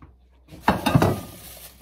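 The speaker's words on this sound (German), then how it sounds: "die Pfanne, die wasche ich einmal durch" A frying pan is washed in a kitchen sink, giving a few close, fairly loud clanks and clatters of metal after a quiet start, then a stretch of softer scraping and a final knock.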